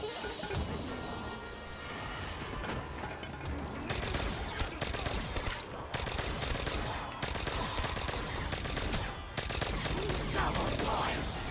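Ray gun fire against zombies on the Ascension map in Call of Duty: dense, continuous rapid weapon blasts and impacts, moderately loud and mixed with other game noise throughout.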